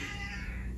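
An odd, rough cat meow, brief and fairly loud, with a strained, noisy tone rather than a clean cry.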